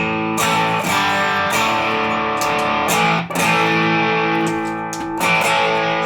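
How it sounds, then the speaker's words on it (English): An electric guitar played through a Strymon Sunset on its JFET setting into the green channel of a JHS Sweet Tea gives sustained, overdriven chords. Several strummed hits ring out loud and alone. "I'm on the JFET setting of the Strymon Sunset in the green channel of the Sweet Tea."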